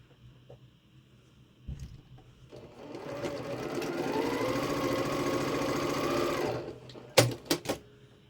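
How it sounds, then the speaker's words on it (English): Sewing machine stitching quilt patchwork pieces for a block, a steady close mechanical whir running several seconds after a few soft handling clicks, ending with sharp knocks. "Pretty straightforward, just sewing it together like you'd sew some patchwork."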